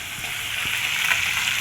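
Fish frying in a pan in a home kitchen, a steady broadband sizzle with soft crackle holding even throughout, close and alone with no voices.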